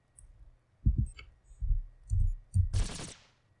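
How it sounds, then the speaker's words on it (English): A Gatling laser fires in the sci-fi game Cogmind: a string of soft, low thudding pulses in an uneven rhythm, ending in a brief, bright hissing burst, all fairly quiet with no voices. "Let's do the Gatling laser."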